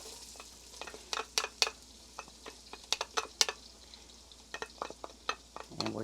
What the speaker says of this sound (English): here in my pan I have 4 tablespoons of butter that I've melted. And now to that I'm going to add a half of a medium onion